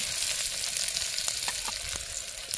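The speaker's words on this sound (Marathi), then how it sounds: "तेल टाकून तेलामध्ये सगळे मसाले टाकून घेते आणि छानपैकी परतून घेते." Spices frying in oil in a pot during an outdoor cooking session give a steady, close crackling sizzle, with scattered brief pops over the hiss.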